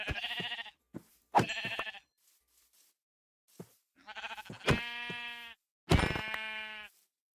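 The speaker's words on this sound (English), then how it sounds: "There are so many sheep." Sheep in the Minecraft video game bleat repeatedly, several loud, close, wavering calls coming in bursts with short pauses between them and no talking.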